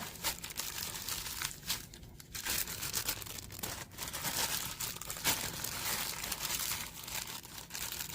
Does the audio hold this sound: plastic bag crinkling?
yes